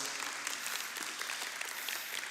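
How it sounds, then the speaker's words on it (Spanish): An audience at a church Christmas gathering applauding, a steady dense patter of many clapping hands heard at moderate distance without pause. "Primero dale fuerte el aplauso por Juan y Rose."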